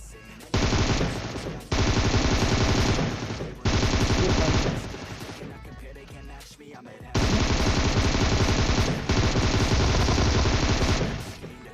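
Loud bursts of rapid gunfire in PUBG Mobile in several long sustained volleys, with short quieter gaps between them.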